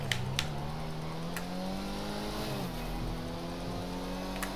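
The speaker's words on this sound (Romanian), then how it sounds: "Hai că vin cu motor." Motorcycle engine in GTA V Online, droning steadily with a sustained tone that shifts pitch as it revs and eases, with occasional sharp clicks on top and no talk.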